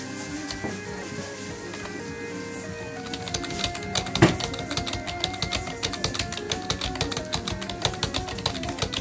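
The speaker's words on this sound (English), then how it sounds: "got a new keyboard too, it's a Razer." Rapid tapping on a Razer computer keyboard, with dense clicky keystrokes that grow busier midway, heard over quiet game music.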